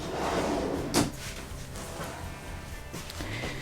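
A dresser drawer slides open and shuts with a single solid thump near the start, followed by quieter scraping and handling sounds as clothes are put away, close by and without talk.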